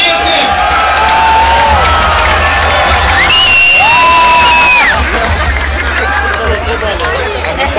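A large indoor crowd cheers, whoops and shouts without a break at a Russian slam dunk contest in Moscow, with a voice and tonal sounds carrying over the steady roar.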